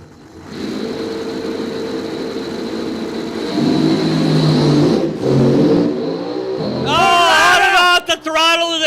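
Drag racing car at a dragway accelerating hard down the strip, a loud sustained engine roar building and rising, with crowd noise and a commentator talking over it near the end.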